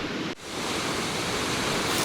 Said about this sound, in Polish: huk wodospadu niesie się echem po całej dolinie